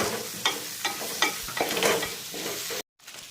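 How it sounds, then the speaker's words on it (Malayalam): Curry leaves fry and get stirred in a pan for Kerala-style chicken curry, with a steady sizzle and repeated scraping strokes of a spoon, ending abruptly. "അതിലേക്ക് നമുക്ക് ആവശ്യത്തിന് കരിയാപ്പില അതും കൂടി ഇട്ട് ഇളക്കി മൂപ്പിക്കണം."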